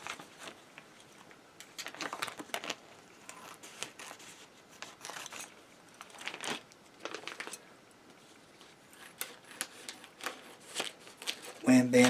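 A scrap of plastic food saver bag with a rough textured side being cut with scissors: repeated crisp snipping and crinkling plastic at close range, with background noise and a loud rustle at the very end.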